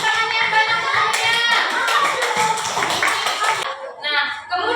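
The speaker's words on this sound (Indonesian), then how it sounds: "Tepuk tangan yang banyak." Children in a classroom clap their hands together in a dense, loud burst of applause lasting several seconds, with a teacher's voice briefly speaking over it.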